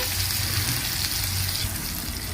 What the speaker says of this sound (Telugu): ఇప్పుడు ఫస్ట్ ఈ ఆయిల్లో కట్ చేసి పెట్టుకున్న ఆనియన్ పీసెస్ అయితే వేసుకోవాలి